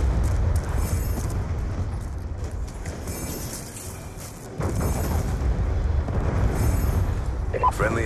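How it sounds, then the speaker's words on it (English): Hellstorm missile explosions in Black Ops 2, heavy booming blasts and rumbling that fill the whole stretch, with a surge partway through and voice callouts mixed in. "Friendly Hellstorm missile inbound."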